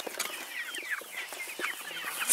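Meat broiler chickens cluck and peep busily inside a chicken tractor on a farm, a dense overlapping chorus of short calls heard up close, with no talking.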